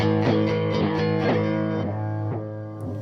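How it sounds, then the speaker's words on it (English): Electric guitar notes ring out through a Chase Bliss Audio Spectre through-zero flanger pedal, with a rhythmic whooshing, jet-like sweep that rises and falls across the sustained tones. "kind of throaty flange sound"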